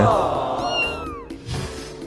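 A cat meows in a clear, rising-then-falling call at close range, with a brief second sound after it and background voices faintly present.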